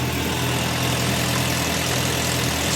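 A cold Suzuki Bandit 600 motorcycle engine idles steadily at around 1300–1400 rpm, a continuous close, loud, even running hum with no break.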